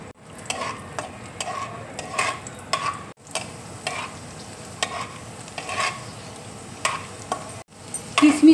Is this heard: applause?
no